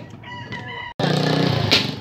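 A rooster crows loudly and close, one long drawn-out crow following a brief pause, with other birds faintly audible before it.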